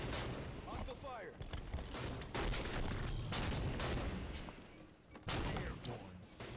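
Halo 5 ranked Snipers match with repeated loud sniper rifle shots and booming bursts of game gunfire in a dense, continuous battle mix, alongside game announcer voice callouts.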